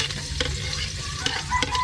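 Pork rib calderita with carrots and potatoes sizzles in a pan while being stirred, with soft scraping and clinks of the utensil over a steady frying hiss.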